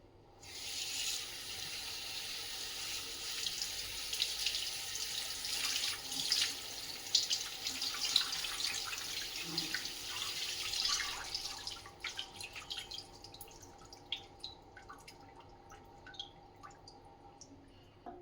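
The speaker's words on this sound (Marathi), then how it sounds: "तर आता ही मेथी आपण छानपैकी धुवून घेऊयात" Tap water runs steadily into a sink as fenugreek leaves are washed in a strainer, a broad hiss for about ten seconds that then stops, leaving faint drips and small handling sounds.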